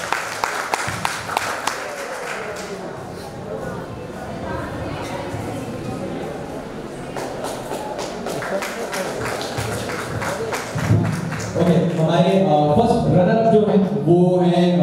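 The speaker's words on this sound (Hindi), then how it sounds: "तो एक जोरदार तालियां" An audience at a talent hunt award show in Ayodhya claps loudly for the dancers, a sustained wave of handclaps that swells toward the end as voices and music rise over it.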